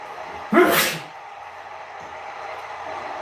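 A single loud sneeze bursts out near the mic during a wrestling match commentary, then the room settles back into low background hum.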